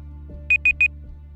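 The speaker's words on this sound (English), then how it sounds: "Okay, let's see if the alarm's working." A timer alarm being tested goes off in three short, evenly spaced electronic beeps, bright and close, over a low steady room hum.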